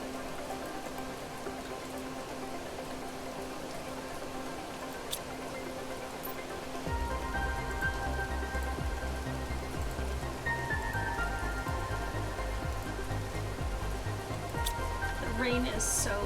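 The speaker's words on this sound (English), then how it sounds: "Rain is so loud." Heavy rain in the video game Planet Crafter, a steady dense patter that fills the whole stretch and grows fuller partway through, with a voice talking over it.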